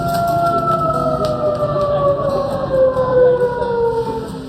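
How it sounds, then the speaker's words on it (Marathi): Village study-time siren, a loud steady wail with its pitch slowly gliding downward, sounding alone throughout. "हा आवाज असतो भोंग्याचा, सायरनचा"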